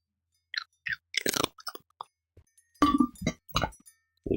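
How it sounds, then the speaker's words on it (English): A cat eating dry kibble, giving a few short, close crunches and clicks in irregular bursts, with quiet gaps between them and no talking. "Listen up for the crunch."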